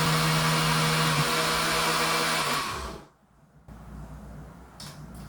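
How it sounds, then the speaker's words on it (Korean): A loud, steady blender whir with a harmonic hum, grinding pumpkin for about three seconds before cutting off, followed by quieter background noise. "자, 믹서에 한번 갈아볼게요."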